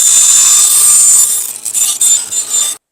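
A saw or cutting tool trims the back off a model railroad diorama street, giving a close, loud rasping cut that breaks into short scraping strokes before stopping abruptly.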